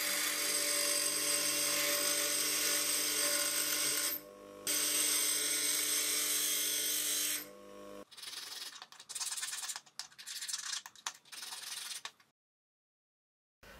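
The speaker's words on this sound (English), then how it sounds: "Like the other faces, I'll grind in a 10 degree slope." A high-speed steel lathe tool ground on a spinning wheel to a 10 degree slope: a loud, steady whirring grind for several seconds, a brief dip, then a resumed run before shorter intermittent passes that fade to quiet.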